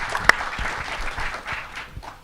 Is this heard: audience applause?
yes